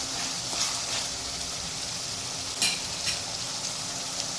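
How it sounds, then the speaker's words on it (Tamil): Ginger garlic paste sautés in a pan for tomato rice with a steady close sizzling hiss, and a few faint utensil taps rise briefly above it. "இஞ்சி பூண்டு பேஸ்ட்டு போட்டோம் கொஞ்ச நேரம் நல்லா வதங்கட்டும்"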